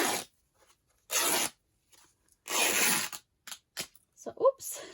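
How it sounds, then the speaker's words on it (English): Calico fabric is torn by hand in several short, crisp ripping bursts separated by quiet gaps, close up and fairly soft. "It's always fun to tear the calico."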